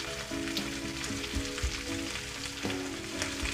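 Oyster sauce sizzles and crackles in a hot frying pan while cooking pork mechado, a dense, loud, continuous hiss with faint background music beneath it.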